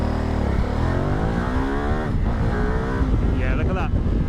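A 2025 Ducati Multistrada V2S motorcycle accelerates hard with wheelie control on, a loud close engine note climbing steadily in pitch through the revs, with wind noise and a brief shift near the end.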